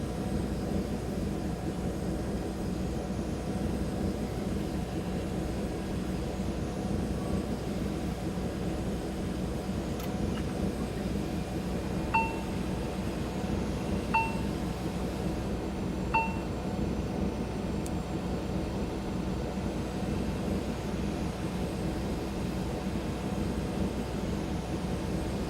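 Auxiliary power unit humming steadily on an XCrafts ERJ145 in X-Plane 12, a constant broadband drone with a few faint tonal chirps partway through, no talking.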